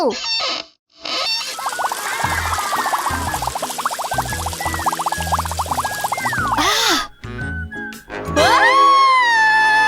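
In a children's cartoon, water gushes from an unblocked pipe in a loud, bubbling rush that lasts several seconds, then gives way to squeals and playful sound effects.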